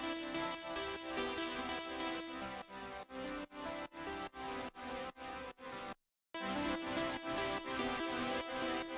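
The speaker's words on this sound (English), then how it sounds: "So I added this distorted pluck" A distorted synth pluck plays a melody within a full electronic pop production, mixed slightly back; it stutters in rhythmic gated chops mid-way, drops out briefly, then returns with the dense track.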